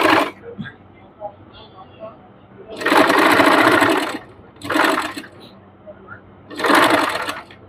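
A sewing machine stitches piping onto a trouser cuff in three loud, separate bursts of a second or so each, with quieter pauses between them where faint handling sounds occur.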